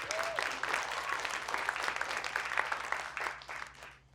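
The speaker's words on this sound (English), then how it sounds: "Let's give a round of applause for Julie as well." A storytelling-event audience claps steadily for a few seconds, a dense patter of hands with a voice briefly audible, fading slightly at the end.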